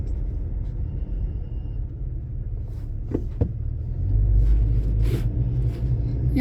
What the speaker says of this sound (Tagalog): I-drive na natin itong truck para hindi tayo pabalik-balik.